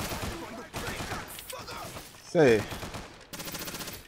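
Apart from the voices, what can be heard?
gunfire in video game Scarface: The World Is Yours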